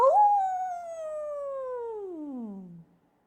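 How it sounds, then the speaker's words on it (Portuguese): A single long, clear maned wolf howl that slowly falls in pitch and fades out after about three seconds, heard alone. "é apenas o uivo do lobo-guará, anunciando que o sol vai nascer"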